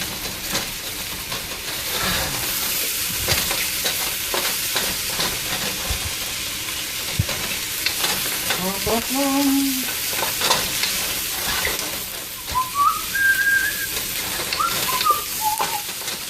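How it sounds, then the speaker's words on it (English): Egg stir-fried over high heat in a wok, with a loud continuous sizzle and hiss and repeated scraping strokes as it is kept moving, plus a few brief squeaky tones near the end. "Just gonna keep it moving, keep it off the wok."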